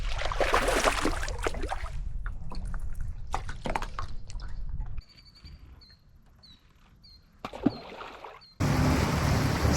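A Xpress H20 aluminum bass boat runs over water with engine rumble and splashing, then drops to quiet dripping and lapping before a loud rush of water returns.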